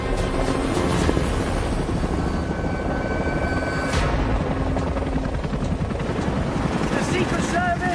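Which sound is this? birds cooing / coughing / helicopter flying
helicopter flying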